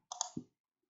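A computer mouse clicks twice in quick succession, crisp and close, followed by a duller thud and then silence.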